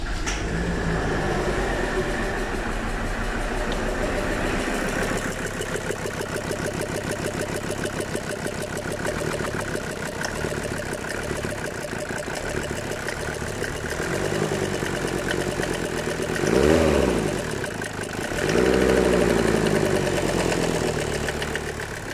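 Mercedes OM606 diesel engine on a warm day, steady idle with a constant low rumble and faint knocking through most of the stretch, plus a couple of brief revs near the end.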